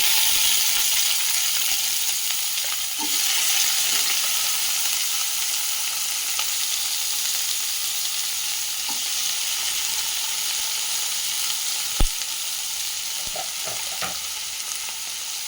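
Onion, tomato, curry leaves and a green chilli sauté in oil for goat trotter paya with a loud, continuous hiss. Occasional clicks and taps of a spoon against the pan break through the sizzle.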